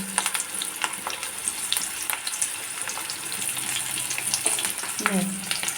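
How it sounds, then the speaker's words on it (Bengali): Potato pieces with turmeric frying in a pan, a close, steady hiss of sizzling oil with occasional light scrapes of stirring running throughout, no talk. "আলুটা ভাজা হোক"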